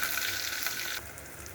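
Sliced onion frying in a ladle of hot oil hisses loudly as half a tomato and curry leaves go in, the sizzle easing after a second, no voices.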